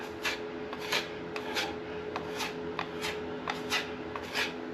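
Repeated scraping strokes of a metal drywall knife spreading mud into small dimples on a wall, about two per second, close and steady with no voices.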